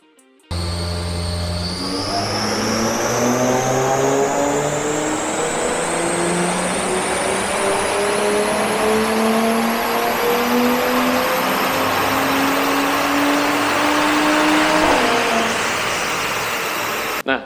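A Mercedes C43 AMG on a dyno before an ECU remap, its engine revving up in one long, loud, steady pull that climbs for about fifteen seconds, then cutting off sharply.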